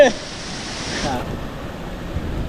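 Sea waves wash in and out along a rocky Konkan shoreline during traditional crab catching, a steady broadband rush with a softer swell after the first second, fairly close and continuous.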